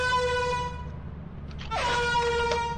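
A blaring air horn in the video game Lethal Company sounds a sustained, loud, harmonically rich honk, cuts out briefly, then honks again with more force for over a second.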